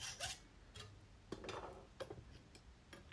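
A half round file deburring the inside of a homemade valve tool made from an old Hagon shock adjuster held in a vise, giving short, quiet, irregular rasping strokes and light scrapes close by.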